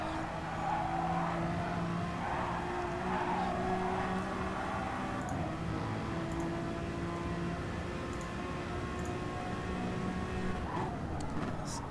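A race car engine on a hot lap in a racing video game at Kyoto Driving Park, a steady sustained drone with shifting tones throughout, no talk, moderately loud and continuous.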